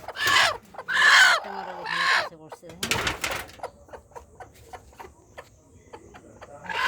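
Desi chickens and roosters cluck and call on a farm, with loud bursts of crowing early on followed by quieter scattered clucks, while a person talks nearby.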